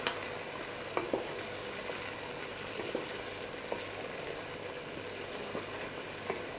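Chicken karahi with Kashmiri red chilli cooks in a pan with a steady, close sizzle and frying hiss, broken by a few soft clinks of a spoon stirring. No one speaks.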